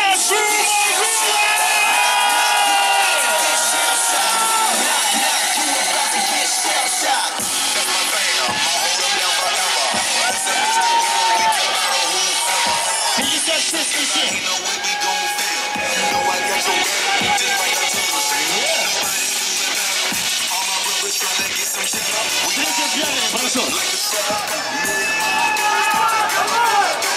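A large crowd at a Fight Nights MMA weigh-in ceremony cheers and claps continuously, with shouts and whoops rising over a dense, loud wash of applause.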